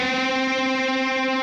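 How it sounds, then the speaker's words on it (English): Electric guitar sustaining a unison bend, the third string pushed up to match the second, ringing as one steady, bright, harmonically rich tone with no talk. "So you bend the 3rd string up to sound like the 2nd."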